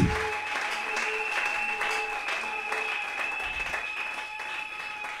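Congregation at a French-speaking church service claps in a steady wash of applause, moderately loud, with a sustained tone running underneath.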